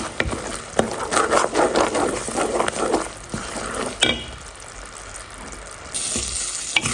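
Jujube plums sizzle and fry in a pan of syrupy pickle mixture, a close, continuous crackling bubbling broken by scraping stirs, with no talk.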